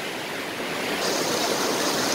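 Waterfall pouring over rocks, a steady dense rushing roar that grows slightly louder midway, continuous and close, with no speech.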